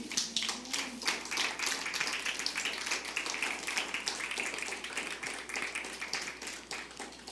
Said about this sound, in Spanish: Familia, dale un aplauso al Señor.